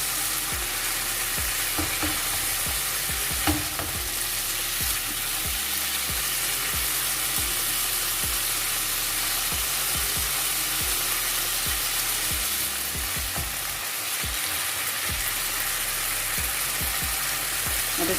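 Chicken and vegetable pizza topping stirred while it fries in a pan, with steady sizzling and regular scraping strokes of the spoon, continuous and close, with no talking.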